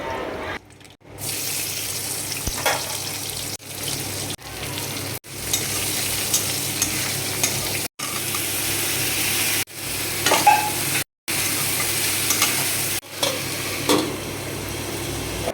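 Bay leaves and dried red chillies sizzle and crackle in hot oil in a pan, a steady close frying hiss broken by a few abrupt cuts and faint clinks.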